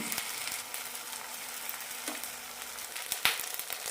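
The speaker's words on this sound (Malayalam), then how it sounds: "മീഡിയം ഫ്ലെയിമിലിട്ട് ടോസ്റ്റ് ചെയ്തെടുക്കാം" Eggless banana bread toast fries on medium flame in a pan with sunflower oil, giving a quiet, steady sizzle broken by a couple of faint clicks near the end.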